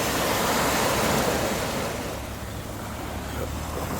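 Sea waves wash and hiss steadily nearby at Akçakoca on the Black Sea coast, a broad rushing surf with some wind buffeting the microphone and no voices.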